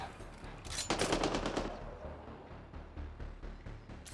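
Automatic gunfire in the sci-fi shooter Mass Effect Andromeda, a rapid burst of shots followed by scattered quieter firing and game effects, moderately loud and without talk.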